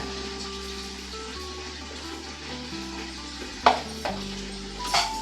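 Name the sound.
frying spices: coriander, cumin, cinnamon, cloves, curry leaves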